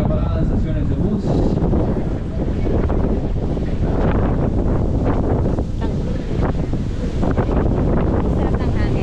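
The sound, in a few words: wind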